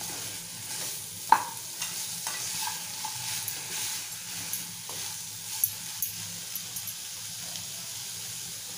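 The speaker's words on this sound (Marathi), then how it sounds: "आणि छान मिक्स करूया" Brinjal and potato curry is stirred in a hot pan: a soft continuous sizzle with a sharp scrape against the pan and several lighter spoon knocks spaced through it, close by and with no voices.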